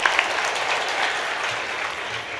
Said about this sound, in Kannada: ಹೌದಾದ್ರೆ ತಾವು ಚಪ್ಪಾಳೆ ತಟ್ಟಬೇಕು